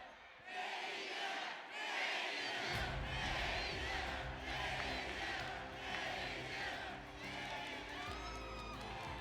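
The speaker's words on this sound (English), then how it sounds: "the crowd chanting FaZe's name" A packed arena crowd at the LCK Spring Finals 2023 esports championship chants and cheers in loud, rhythmic waves for the player Faker, sustained roaring bursts with no pauses.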